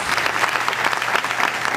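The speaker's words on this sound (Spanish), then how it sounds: "Venga, las palmas arriba para el Rey de Reyes." An audience at a Christian worship concert claps together in a dense, continuous burst of applause, loud and close, with no voices standing out.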